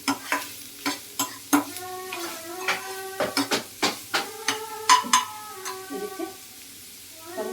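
A spatula scrapes and taps a pan repeatedly as onions cook in a little oil over a low flame, a steady rhythm of clinks over a faint sizzle, with a brief spoken word.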